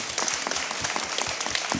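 An event audience at Palazzo Diedo gives a brief, steady round of applause, a dense layer of many overlapping hand claps at an even level.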